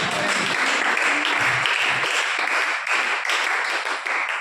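Loud, sustained applause from a church congregation fills the space, dense and continuous, with a few tonal voices or music notes faintly underneath.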